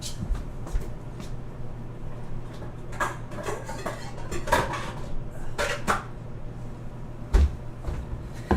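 A lemon cheesecake crumb bar mixture is poured into a bigger mixing bowl in a home kitchen. Bowls and utensils clatter and clink in scattered knocks over a steady low hum, with one louder bump near the end.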